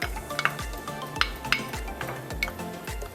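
Carrots dropped into boiling broth in a pot for a chicken pot pie filling, with several splashy clattering bursts over a low bubbling boil.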